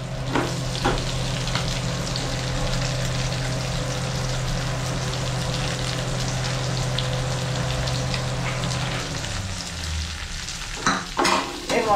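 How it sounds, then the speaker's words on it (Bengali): Onions are added to fried prawns in an oily pan and crackle in a loud, steady sizzle. Periodic scraping stirs cut through, a low hum runs until near the end, and then a few clattering knocks follow. "চিংড়ি মাছটা আমার ভাজা হয়ে গিয়েছে। এর মধ্যে আমি পেঁয়াজ দিলাম।"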